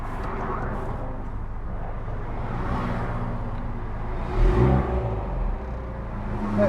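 Several cars start and drive off together at a car show, with engines humming and a couple of nearby revs rising above a steady background of idling vehicles and faint crowd noise.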